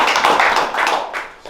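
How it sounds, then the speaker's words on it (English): A sports team claps and applauds together, a dense burst of many hands beating close by for a second and a half before tapering off. "So let's clap it up for that."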